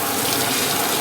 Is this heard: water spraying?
yes